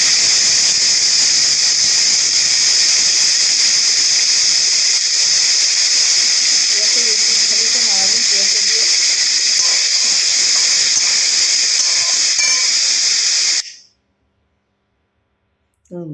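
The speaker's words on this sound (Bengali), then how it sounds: "পেঁয়াজটা আমি কুচিয়ে ওই তেলের মধ্যে দিয়ে দিচ্ছি।" Chopped onions sizzling in hot oil while a Bengali boal fish curry is being cooked, a loud, steady hiss with a faint voice briefly underneath, cutting off abruptly into near silence near the end.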